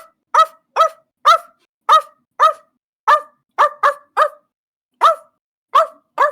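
A voice imitating a dog, giving a run of about a dozen sharp woofs in an uneven rhythm, close and loud, with brief gaps between.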